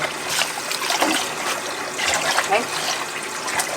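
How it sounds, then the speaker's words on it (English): Poke salat greens are rinsed in water, with trickling and splashing that rises and falls in short surges and a single brief spoken word partway through. "Most greens you get out of the garden has to have a triple rinse."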